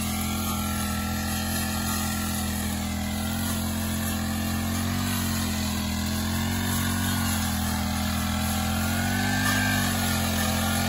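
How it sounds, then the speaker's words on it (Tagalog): A grass cutter (brush cutter) fitted with a new blade runs continuously near a vineyard while weeds are cleared, a steady loud engine drone with slight pitch shifts as the load changes. "mabilis mag-grass cutter. Bago yung talim niya."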